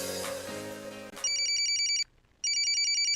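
A telephone rings with a bright electronic trill in two long bursts separated by a short pause, coming in as a musical jingle fades out.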